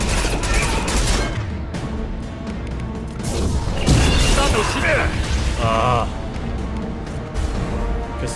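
Rapid bursts of gunfire and crashing impacts from a fight against a Collector vessel in the video game Mass Effect 2, a dense, loud barrage lasting throughout, with a voice briefly heard over the shooting.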